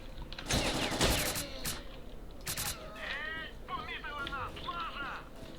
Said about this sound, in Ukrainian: Та ні, це навіть добра пушка.